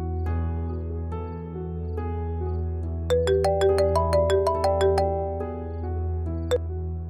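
A phone ringtone plays a bright, repeating electronic melody of quick pinging notes over a steady low musical drone, then stops.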